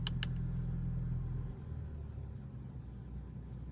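Exhaust note of a 476 hp Audi S4 idling, heard from inside the car, drops noticeably after about a second and a half as the exhaust valves close when the drive mode switches from dynamic to comfort; a steady low rumble continues afterward.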